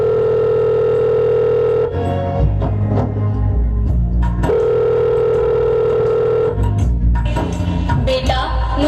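A telephone tone repeats while a call is being placed, a steady sustained hum sounding twice for a couple of seconds each time, with louder music and effects between, all fairly loud.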